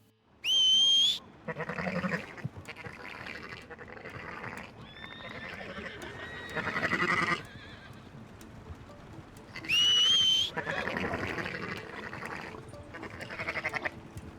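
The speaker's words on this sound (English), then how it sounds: "Whilst the sheep are sleeping, if the player whistles for their horse, this will disturb the animal's rest." Sheep in the video game Red Dead Redemption 2 bleating after a whistle disturbs their rest, with two sharp, loud whistles each followed by several nearby bleats, under a quieter background.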